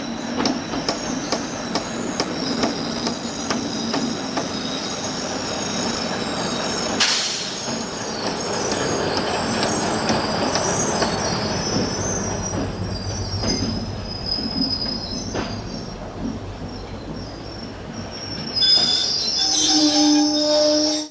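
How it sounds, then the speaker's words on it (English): An OO gauge model railway train rolls along rails with continuous rumble and high wheel squeal, clicking over joints, growing brighter and louder near the end. "The train stops, the loco decouples and moves forward to the single track section beyond the points."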